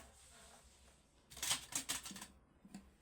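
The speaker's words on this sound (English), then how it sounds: "then I'm going to cut my yarn" Scissors cut crochet yarn with a short cluster of crisp, close snips, followed by one softer snip, against a quiet background.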